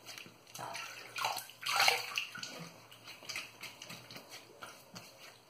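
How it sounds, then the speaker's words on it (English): Shaving gear, a boar brush and razor, rinsed under running water in a sink, gentle splashing and sloshing in uneven bursts, close and fairly quiet. "Let me rinse this off really quick."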